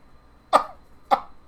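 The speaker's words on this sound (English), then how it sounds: "I'm like coughing because it makes me laugh so much." Two short, sharp coughs about half a second apart from a person laughing hard, close and fairly loud in a quiet room, with no talking.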